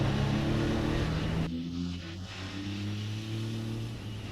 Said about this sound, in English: we're in 6th gear, going uphill. I open the throttle wide and the bike